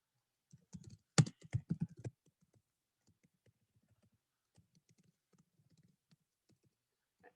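Fingers tap a computer keyboard in a quick burst of sharp clicks, then a few scattered faint keystrokes follow in an otherwise quiet room.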